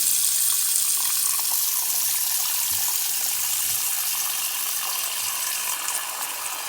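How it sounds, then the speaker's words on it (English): Tap water runs steadily into a bathroom sink with its pop-up stopper closed, a continuous bright rushing hiss that holds even and close throughout, with no voices. "I'm going to fill it up with water."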